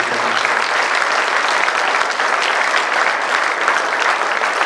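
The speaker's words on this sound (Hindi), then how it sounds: "आप जोरदार तालियों से मेजर ध्यानचंद जी का संकेत करते हैं।" An audience gives loud, sustained applause in tribute to Major Dhyan Chand at a National Sports Day event at Shri JJT University, with dense clapping from many hands running steadily throughout.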